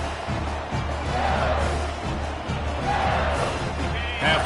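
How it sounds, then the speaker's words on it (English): Stadium crowd in the College Football 25 video game, a Michigan versus LSU matchup, a dense, continuous roar of yelling and screaming fans that stays loud and steady throughout. "for an entire game, they are on their feet, yelling, screaming"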